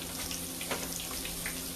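Salmon croquettes frying in hot grease, a faint continuous sizzle and crackle with a low steady hum beneath, no talking.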